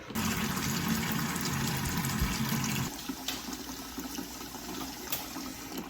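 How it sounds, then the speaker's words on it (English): Hot water running from a tap into a 5-gallon bucket, filling it halfway to make homemade liquid laundry detergent; a steady, close rushing pour that drops and softens partway through as the water level rises. "I'm gonna be filling it up halfway with hot water."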